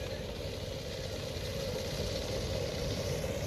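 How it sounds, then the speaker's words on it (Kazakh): A motorized grass cutter runs steadily while mowing the grounds at the Lotus Temple in Delhi, a continuous mid-pitched engine drone at moderate distance with no pauses. "Территорияда печән чабалар мотор иттереп."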